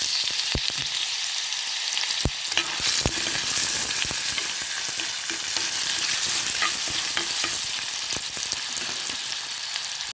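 Ginger sizzles steadily in hot oil in a pan, a loud continuous crackling frying sound broken by sharp scrapes and clicks of stirring, with no voices.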